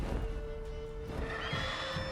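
A horse whinnies in a thin, drawn-out call over a steady low background rumble, moderately loud, in the video game The Witcher 3.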